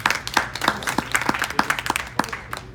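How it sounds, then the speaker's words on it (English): A small audience at a startup pitch event claps, individual claps distinct and uneven over a few seconds, close and fairly loud, with no voices. "So give him a round of applause."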